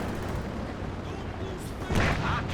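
Artillery barrage in the strategy video game Company of Heroes 2, dull rumbling booms with a louder impact near the end over a dense battle din, with talk faintly present.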